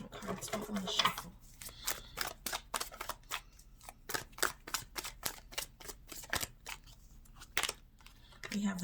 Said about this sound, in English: the cards go on the shuffle